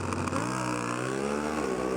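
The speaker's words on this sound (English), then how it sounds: "They roll into stage in the final here of Pro Stock Motorcycle." Pro Stock drag racing motorcycles idle and rev as they roll into stage for a final, a loud steady engine drone that shifts pitch partway through.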